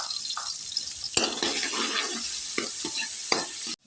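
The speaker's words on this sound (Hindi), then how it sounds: "प्याज मैंने अच्छे से करना फ्राई।" Onions frying in half a cup of oil in a kadai, a steady bright sizzle with occasional stirring scrapes, close up, ending abruptly.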